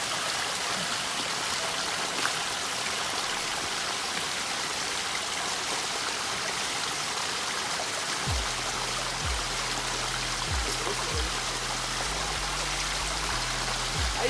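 A mountain stream in the Riverston hills of Sri Lanka rushes steadily in a constant broadband wash. A low droning tone with brief pulses joins partway through.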